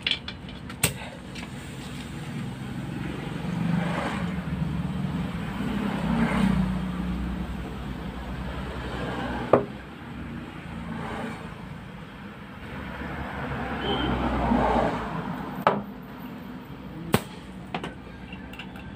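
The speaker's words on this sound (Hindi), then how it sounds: "टायर इसलिए आवाज़ किया गया कि इसमें चूंकि पहले ट्यूबलेस टायर था इसलिए टायर बैठना इसलिए आवाज़ किया" A motorcycle's tubeless tyre seats its bead during inflation with air. Several sharp, isolated pops and snaps break through a steady, rushing hiss, spaced irregularly across the stretch.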